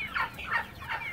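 Three quick, nasal rooster calls in a row, close by and moderately loud, like birds clucking or gobbling rather than a full crow.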